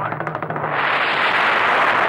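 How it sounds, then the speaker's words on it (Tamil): Thunder crack in a 1982 Tamil film, a series of sharp crackling bursts that build into a loud, sustained roaring rumble, with no voices over it. "மேகம் இடித்தது மின்னல் வெடித்தது"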